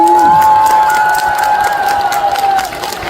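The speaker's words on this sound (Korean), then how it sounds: "박수 한번 치겠어요" Loud crowd at an outdoor concert by a trot singer cheers and applauds, with sustained shouting voices over dense clapping that eases slightly toward the end.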